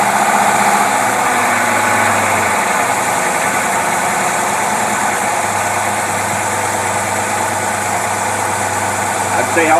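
A Buick engine with a dual WCD carburetor idling close by, a steady, loud, even hum with a constant low drone, and a voice speaking over it.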